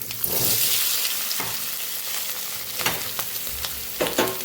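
Potatoes tip into hot oil with cumin seeds and turmeric, sputtering loudly at first. A lively sizzle follows, with stirring scrapes and clatters breaking in now and then.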